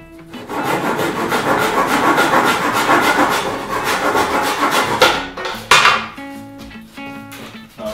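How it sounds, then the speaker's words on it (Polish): A hand saw cuts through a wooden strip with steady, loud back-and-forth rasping strokes for about five seconds, then a few sharp wooden knocks and clatter as the cut finishes, with no talking. "Piła ręczna w dłoń. I teraz utniemy sobie tutaj."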